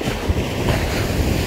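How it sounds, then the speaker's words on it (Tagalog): Strong ocean waves crash onto a beach in Zambales, a brief, loud, rushing surf roar with heavy wind buffeting the microphone and no voices. "Ang lakas ng hampas ng alon, no? Maalon siya ngayon."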